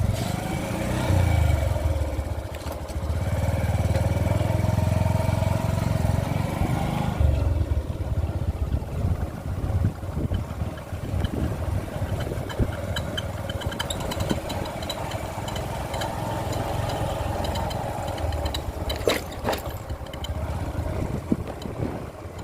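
A motorcycle engine runs steadily throughout a ride on a hilly rural road past a dam, a continuous mid-pitched drone with wind rumble that is heavier early on.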